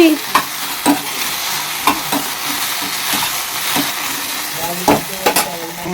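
A spoon scrapes and stirs spices, including a pinch of turmeric, frying in a pan, with a steady sizzle under repeated close, sharp scraping strokes.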